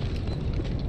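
A short, loud, rumbling explosion in the video game Succubus, with deep low-end boom and crackling debris, lasting under a second.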